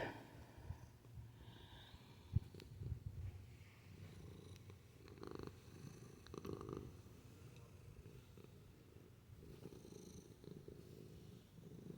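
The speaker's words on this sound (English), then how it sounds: "my cat decided now would be the time to come up here and purr" A pet cat purrs close by, a steady low rumbling drone with faint breathy rhythm, quiet and continuous with no talking.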